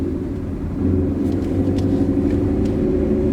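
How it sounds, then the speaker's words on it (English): Ford Mustang GT with a manual gearbox driving as it is shifted into second gear, a steady low engine rumble that swells slightly partway through, heard from inside the car with no talk. "now you want to put it in second gear because we're already rolling"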